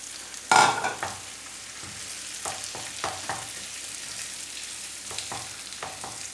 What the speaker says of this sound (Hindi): सारे मसाले को डाल के अच्छे तरीके से करेंगे मिक्स